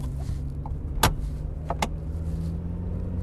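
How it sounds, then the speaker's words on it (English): Mazda MX-5 Miata convertible with its manual soft top pulled up while rolling slowly, a low engine hum beneath two or three sharp clicks and latch snaps from the roof mechanism, close by. "I'm gonna slow down so I can put the top back up while I'm moving."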